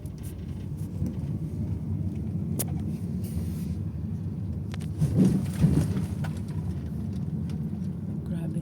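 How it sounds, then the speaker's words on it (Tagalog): Low rumble of heavy road traffic in Hong Kong heard from inside a vehicle, a steady engine drone with a louder passing swell partway through. "Sobrang traffic."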